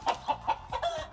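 Chicken clucking in short repeated bursts, about five evenly spaced clucks in just over a second, fairly close and alone with no talking.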